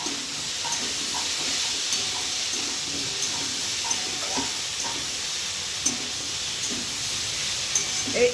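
Ginger and green chilli paste sizzles in a pan for a cauliflower curry, a continuous soft hissing fry with light stirring scrapes and small pops throughout.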